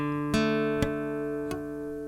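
Guitar strings plucked with a fretting finger not pressed hard enough, three separate notes in a beginner's lesson, each with a short buzzy attack fading quickly, close and alone.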